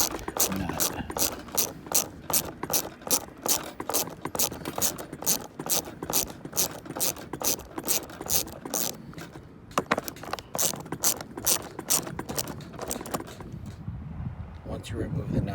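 A ratchet clicking rapidly and steadily while removing a plastic nut from a metal stud on the rear seat pocket panel of a 1995-2001 BMW E38 740/750, close and loud, with a brief pause near the end.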